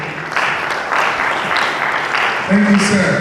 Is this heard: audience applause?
yes